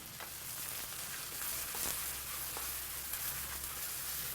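Shiitake mushrooms sizzling in oil in a pan, a steady, dense hiss of frying with faint crackles, continuous and fairly quiet with no talk.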